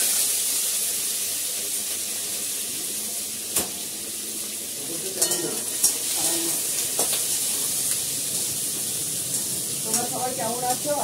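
Potatoes hit hot oil already holding dried chilli and five-spice seeds, and a constant hissing sizzle follows, joined by scattered clatter and stirring scrapes that grow busier toward the end.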